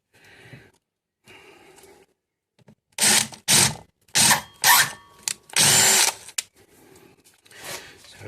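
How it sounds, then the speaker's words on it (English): Power drill whirring as it bores into soft alloy during a Ryobi power file repair, in several loud bursts of a second or so each, separated by brief pauses, with quieter faint noises before and after. "It's into a very soft alloy, so it's drilling easy enough."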